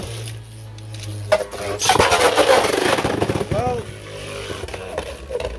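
Beyblade Burst spinning tops, Chain Kerbeus and Cyclone Ragnaruk, are launched with a quick ripping rasp, then whir and scrape against each other in the stadium while someone talks over the action.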